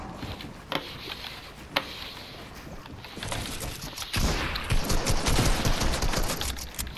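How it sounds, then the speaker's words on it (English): Gunfire in Fortnite, a few sharp isolated shots followed by a dense, loud stretch of rapid firing and impacts in the game's noisy mix. "Taking shots."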